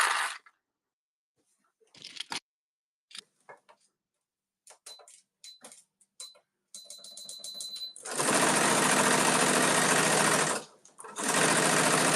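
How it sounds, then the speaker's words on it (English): A sewing machine running a straight stitch along a tote bag handle, starting with short stop-start bursts and stitch taps, then long steady loud whirring runs with a brief pause between them. "now I'm going to go back and put a straight stitch on the outside"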